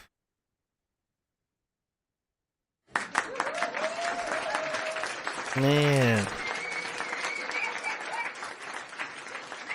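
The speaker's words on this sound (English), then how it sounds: "Hold on, where's my applause?" Clapping and crowd noise from a small group of podcast hosts and guests start abruptly after silence and continue steadily, with a voice speaking briefly amid the applause.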